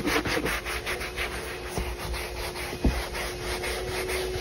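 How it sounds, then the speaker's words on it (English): Stiff brush scrubbing a car's carpet in short repeated strokes, a steady rhythmic rubbing and scratching close by, with a couple of sharp knocks partway through. "We brush the carpet to get any extra debris."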